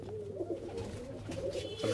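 Andhra pigeons kept in a cage give low, throaty coos close up, a brief continuous murmur of cooing over faint background noise.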